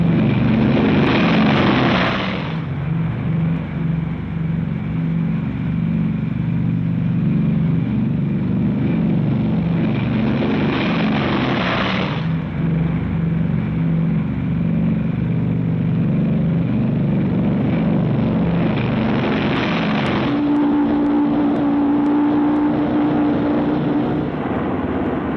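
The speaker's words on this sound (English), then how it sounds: "B-29 takeoffs are a tough sweat." Heavy World War II B-29 bombers roar on takeoff in a continuous loud engine drone with broad rushing noise, swelling and easing in long waves as each plane passes, with no talk over it.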